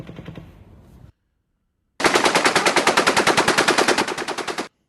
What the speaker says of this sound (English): that's the M240